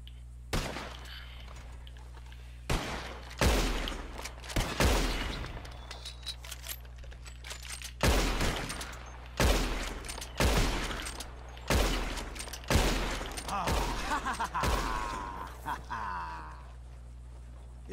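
Sharp gunshots in a western video game as players shoot at flying birds, single reports and quick pairs spaced a second or two apart over a steady low hum, with voices talking between shots.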